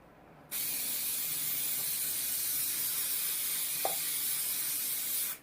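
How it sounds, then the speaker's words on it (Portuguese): Tec Bond permanent spray adhesive hisses from an aerosol can in one steady, close blast lasting nearly five seconds, then cuts off sharply. "Passei, então, cola Tec Bond, cola spray permanente em toda a área"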